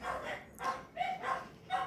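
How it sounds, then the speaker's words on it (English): Dogs barking in a garden near an open door, several short woofs and yips in quick succession at moderate distance, with no talk over them. "I don't know why the dog's barking"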